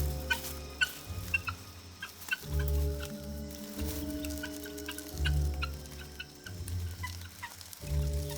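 A flock of guinea fowl calls loudly and nearby in a rhythmic, overlapping chorus of harsh cackling and clucking, sustained throughout without any talk.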